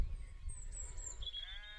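Faint bleating of a sheep in the distance over a quiet outdoor background with soft wind rumble, on a Northumberland hill fort.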